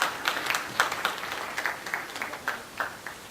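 Audience at a Hindi poetry recital applauding, with quick, uneven claps that start strong and slowly die down over a few seconds.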